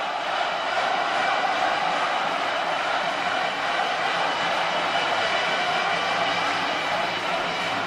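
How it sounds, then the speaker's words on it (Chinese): A large arena crowd at the 1995 World Table Tennis Championships men's team final in China applauds continuously, a dense, even roar of clapping that holds steady at one loud level throughout. "全场可以说是掌声雷动"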